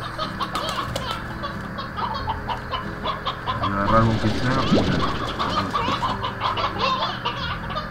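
Chickens cluck and chirp in the Slime Rancher video game, with repeated short calls under a steady game soundtrack while someone talks over them in Spanish.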